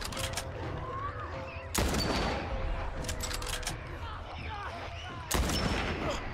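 Loud gunshots in The Last of Us Part I ring out amid a tense fight against infected, three sharp blasts spaced a few seconds apart over a bed of rumbling game noise, with voices speaking in between.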